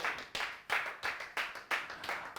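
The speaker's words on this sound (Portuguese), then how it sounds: "Alguém aplaude o Senhor Jesus Cristo." A congregation at a church sermon claps in steady unison, about seven sharp, evenly spaced beats in quick rhythm, fairly close and moderately loud with no talking.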